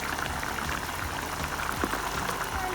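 Cauliflower sizzling in a big frying pan with spiced gravy, a steady dense hiss and crackle of bubbling oil throughout, fairly close and unbroken.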